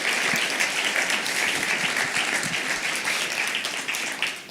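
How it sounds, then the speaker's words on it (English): An audience at a FIFDH 2022 forum panel on activism claps for panellists in a steady round of applause. The clapping is dense and sustained and fades a little at the end. "let's give a round of applause to our panellists who have joined us from all different parts of the world"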